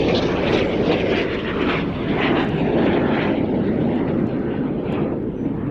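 A BAC Jet Provost jet trainer flies at the Cosford airshow, its engine a loud, steady, broad roar that holds for several seconds with no pauses.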